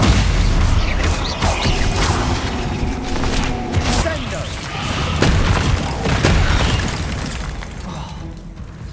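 The Stupefy spell from Hogwarts Legacy goes off amid a loud, chaotic flurry of magical blasts, crackles and booms, with rapid overlapping bursts and a shouted voice in the thick of the fight.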